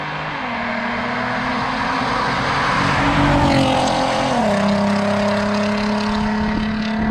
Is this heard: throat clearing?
no